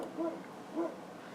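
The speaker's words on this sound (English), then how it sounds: "Please excuse my dog barking." A dog gives two barks in a quiet room, each short and moderately loud, spaced about half a second apart.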